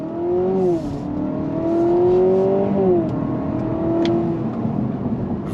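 A 2025 Honda Civic hybrid sedan, front-wheel drive and in sport mode, accelerates hard under throttle, its engine note rising in pitch as it revs, dipping briefly between gears and climbing again, loud and steady from inside the car.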